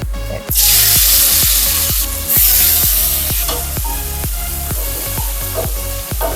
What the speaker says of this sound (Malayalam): പച്ചമുളക്, ഇഞ്ചി, വെളുത്തുള്ളി പേസ്റ്റ്, കറിവേപ്പില, കുറച്ച് ഉപ്പും കൂടി ആഡ് ചെയ്ത് നമുക്ക് നല്ലോണം ഒന്ന് വഴറ്റിയെടുക്കാം